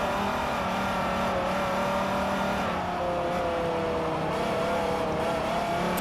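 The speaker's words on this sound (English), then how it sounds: "Just into that gear whine." A Dodge race car in Forza Motorsport 4 gives off a steady, loud engine drone with a high gear whine rising and shifting in pitch as it accelerates, continuous throughout with no talk.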